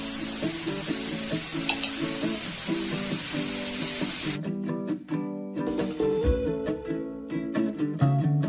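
Chicken tikka frying in a pan over a medium flame, a loud continuous sizzle that cuts off midway and gives way to scraping and stirring sounds.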